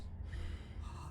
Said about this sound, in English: standing there gasping like a fish is more fun than dead